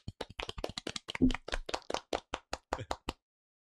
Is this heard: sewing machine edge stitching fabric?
no